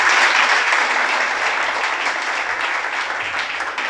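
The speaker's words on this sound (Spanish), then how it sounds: "Un aplauso al Salvador." A church congregation at a Shabbat service claps together in a dense, sustained round of applause that fades slightly toward the end.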